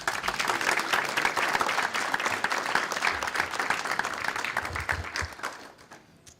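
An audience at a 150th anniversary celebration of the Grange gives a sustained round of applause after a talk, dense and steady clapping that fills the room before tapering off near the end.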